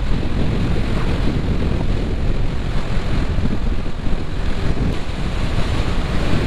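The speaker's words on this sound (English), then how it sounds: "Oh, it's windy." Strong wind buffets the microphone, a loud continuous rumble and roar with gusty surges and no voices.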